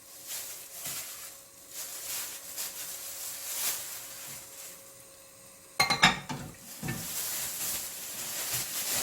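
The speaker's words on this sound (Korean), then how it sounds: "재워둔 고기 튀김가루 넣고 튀김옷 반죽 입을게요" Marinated pork for tangsuyuk being mixed with frying powder into a batter coating, soft wet squelching and stirring, then sharper clinks and scrapes of utensils against a bowl midway, close and intimate.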